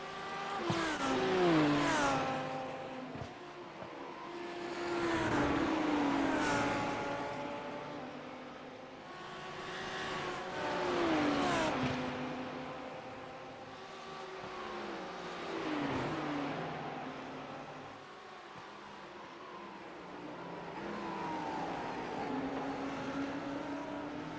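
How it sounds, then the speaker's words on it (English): Race car engines rev and surge in repeated waves, rising and falling in pitch as cars pass at a moderate distance at Oulton Park race circuit. "You can hear Josh hanging the revs as he's trying to get the best launch he can on the exit."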